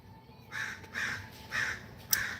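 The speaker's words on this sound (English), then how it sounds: "I hear the birdies and they are just a squawking" Several crows caw outdoors in four loud, evenly spaced bursts, clear against a quiet background.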